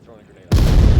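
A frag grenade goes off in a video game, one sudden loud boom that starts halfway through and then carries on as a sustained roar.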